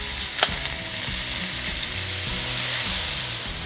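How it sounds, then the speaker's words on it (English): Deer shanks braising in a metal pot on a gas stove with butter, seasoning and beer, hissing in a strong, even sizzle, with one sharp clack near the start. "Now you're gonna wanna braise those shanks."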